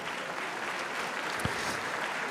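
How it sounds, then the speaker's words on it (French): Steady applause fills a boxing weigh-in as the red-corner professional boxer Dari Hernandez is introduced, a continuous even wash of clapping at moderate distance with no voices over it. "on applaudit très fort Dari Hernandez"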